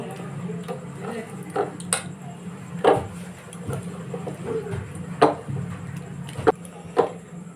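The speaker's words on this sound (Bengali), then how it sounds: "এবার আমি ভালো করে মিশিয়ে নেব" A spoon mixing baking soda into sweet batter made with sour yogurt and powdered milk in a bowl, producing sparse, sharp clinks and taps against the bowl over a faint background hum.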